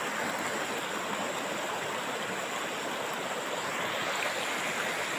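Stream water rushing over rocks in a small waterfall at Hat Nam Dang in Pong, Phayao, making a dense, constant, close roar that stays even throughout, with no voices.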